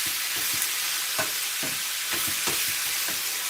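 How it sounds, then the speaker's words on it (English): Meat for a red Thai curry sears with a loud, steady hiss in a hot pan, broken by repeated scraping strokes as it is pushed around, with no talking. "A nice sizzle on there."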